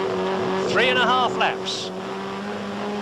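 A turbocharged 420 horsepower Ford Escort RS 1800 rallycross car runs in a 1981 European Rallycross race, its steady engine drone going on under a commentator's talk.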